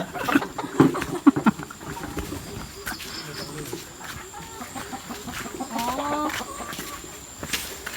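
Farm chickens cluck and crow in short bursts around a rice-field village home, with several loud calls early on and quieter fowl noises throughout, while people talk nearby.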